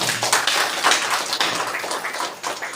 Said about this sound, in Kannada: ದಯವಿಟ್ಟು ನೀವೆಲ್ಲ ಚಪ್ಪಾಳೆಯಿಂದ ಅವ್ರನ್ನ ಸ್ವಾಗತಿಸಬೇಕು